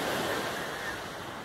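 Sea waves wash steadily onto a beach in the evening, a continuous broad surf roar with wind buffeting the microphone, loud and close with no talking.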